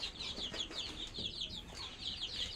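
Chickens on a home farm cluck and chirp continuously in a busy, close chorus with steady rhythmic calls and no talk.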